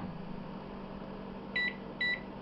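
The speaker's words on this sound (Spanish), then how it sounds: "En el microondas ablandamos" A microwave oven hums steadily while softening 125 grams of butter, then gives two short, sharp beeps close together near the end.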